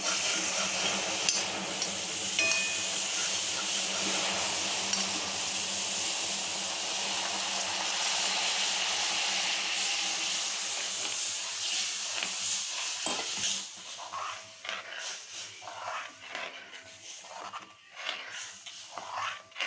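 Milk hits hot caramelized rice in a pan with a loud, sustained steam hiss that gradually breaks into irregular bubbling crackles and pops.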